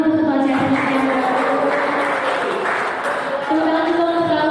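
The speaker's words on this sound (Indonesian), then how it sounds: "tepuk tangan dulu untuk Ketua CSN yang baru" A crowd at a kick-off event claps for a new CSN chairperson, a dense, steady applause throughout with a voice speaking over it.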